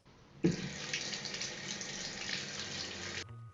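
Hot water gushes steadily from a newly repaired hot tap into a sink, a loud continuous splashing flow that begins abruptly and runs for about three seconds before cutting off.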